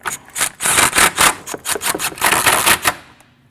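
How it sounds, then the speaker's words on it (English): Rapid ratchet clicking while a 10mm bolt is tightened on a Jeep Cherokee battery, a close, loud run of dense clicks in bursts lasting about three seconds before stopping. "Let's tighten that 10mm bolt."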